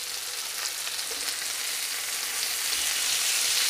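Beef Bihari kebabs fry in a hot pan with a steady, dense sizzle that swells slightly toward the end as they are turned over, close and continuous with no talking.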